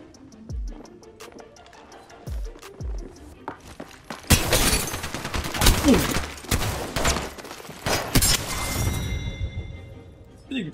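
Video game gunfire: a few sparse clicks and thumps at first, then a loud, sustained barrage of sharp shots and crackling impacts that keeps going to the end.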